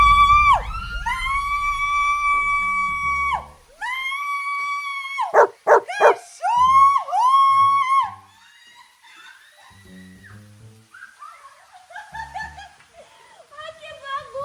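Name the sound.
dog barking during bath in shower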